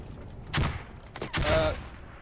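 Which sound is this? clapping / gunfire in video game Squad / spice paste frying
gunfire in video game Squad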